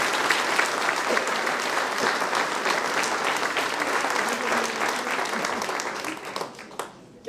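A hall audience claps for the winner of the Meilleur Ouvrier de France award, sustained crowd clapping that fades toward the end, followed by a few isolated handclaps.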